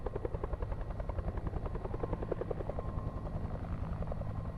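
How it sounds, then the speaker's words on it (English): A helicopter in the Alpha Polaris game, its rotor blades chopping in a fast, steady beat that stays loud and close the whole time, with no voices over it. "Sounds like a chopper."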